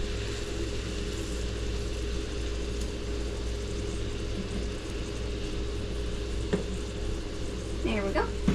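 Oklahoma-style onion burgers fry in a pan with a loud, steady sizzle that fills the whole stretch, a few faint clinks near the end.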